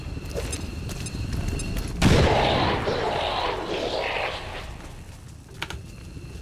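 Gunfire and a heavy explosive boom in the video game XCOM 2 Long War 2, a burst of shots followed by a loud blast that rumbles and fades under scattered clicks.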